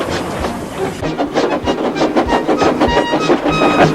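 A video game train from Trainz 09 rolls along pulling freight trucks, with rhythmic clickety-clack and rattling wagons, loud and close, a steady chugging pulse throughout.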